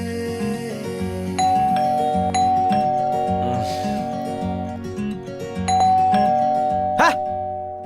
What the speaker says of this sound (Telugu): కాలింగ్ బెల్ల కొడుతున్నాడా, కుంకుడికాయలు దంచుతున్నాడా?